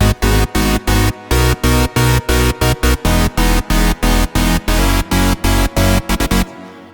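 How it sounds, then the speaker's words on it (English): Thick EDM chorus layering a saw-wave synth bass under unison saw chords, pumping in tight rhythmic gated bursts across a full, bright spectrum, loud and up front with a ringing tail at the end. "when you play the bass with the saw chords, it sounds like this"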